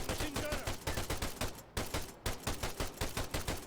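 Rapid bursts of automatic machine gun fire in the Arma 3 military shooter, loud and close, with short rhythmic volleys broken by brief gaps.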